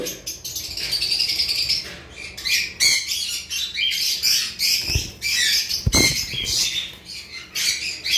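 Sun conure parrots flapping their wings close by, with rapid fluttering bursts and scuffling mixed with scattered squawks and chirps throughout, and a few louder thumps.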